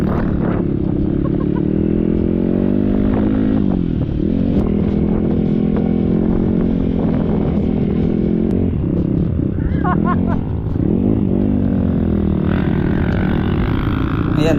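A Kawasaki KLX dirt motorcycle rides a soft, sandy lahar trail on the Pinatubo route, its engine droning loudly and steadily with revving swells, while a rider talks over the noise.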